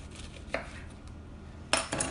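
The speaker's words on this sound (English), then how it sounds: "Show me cutting this lemon, honey." A knife cuts through a lemon on a board, two sharp chopping knocks about a second apart followed by a softer third, close and alone in a quiet kitchen.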